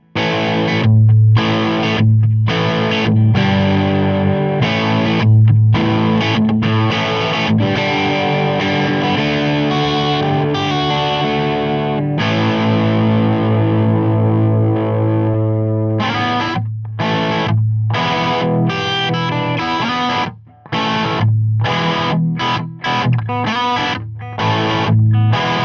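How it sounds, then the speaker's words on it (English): An electric guitar plays through a Reinhardt Sentinel head into a Reinhardt 2x12 cabinet on the vintage setting, power soak about halfway, with heavy distorted gain: loud sustained chords and riffs broken by short stops. "As you can tell, the amp has got plenty of vintage gain on tap."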